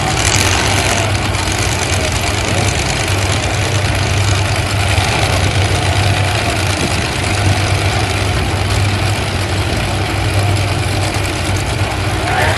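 Several monster trucks idle and rumble into the arena at a pumpkin smash event, a steady loud low engine drone with no break, no talk heard.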